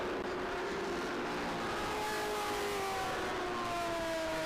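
Vintage NASCAR race cars accelerate at Road Atlanta, a loud continuous roar of several engines with rising revs heading into turn one, fairly near.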